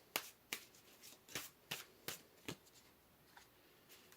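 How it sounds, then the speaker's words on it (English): Tarot cards shuffled and slid from a deck in crisp, close snapping flicks, about eight quick riffles in a loose rhythm, quiet and alone with no voices. "So let's pull another card here for you guys."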